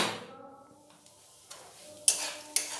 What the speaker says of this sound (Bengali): হালকা লাল করে নারকেলগুলো ভেজে নেব।